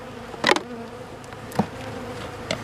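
Honeybees robbing a beehive make a steady close hum, with a few louder buzzing passes as individual bees fly right by.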